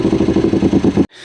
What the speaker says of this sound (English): they have to play an MP3 of a V8 through your speakers so you feel sporty